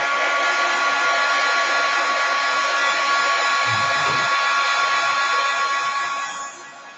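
A hair dryer drying Mod Podge on a foam head runs as a steady, loud, close whoosh, with a brief low thump partway through before it winds down at the end.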